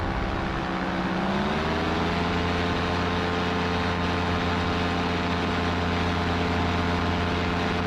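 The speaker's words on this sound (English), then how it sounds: "Now this is just engine noise, so I turned it down quite a bit." A paramotor engine runs in flight over the ocean, a steady droning hum with strong low harmonics that rises slightly in pitch early on and then holds constant, loud and unbroken throughout.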